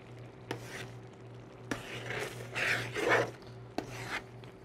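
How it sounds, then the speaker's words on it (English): A metal spoon scrapes the bottom of a pan of seafood paella in a home kitchen, in several rough rasping strokes and a few sharp clinks over a low steady hum. "You kind of want to scrape the bottom of the pan so it doesn't, you know, use a metal spoon like this"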